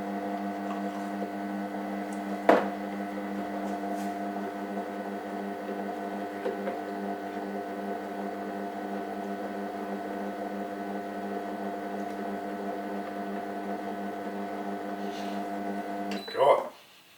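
A food processor grinds peanuts into peanut butter, its motor humming in a steady, strained drone at moderate level, with a brief thump early on and a clatter near the end.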